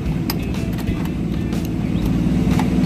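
A 1953 Ford Customline, crusty from a Craigslist find, idles with a steady low engine rumble heard from close by, with faint clicks and rattles over it and no speech.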